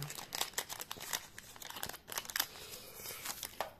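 Scissors cutting open One Piece trading card booster packs, dense crinkling foil and sharp snips in rapid irregular bursts close up, no voices over it.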